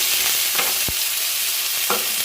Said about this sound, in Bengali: মুগের ডালটা ভাজছি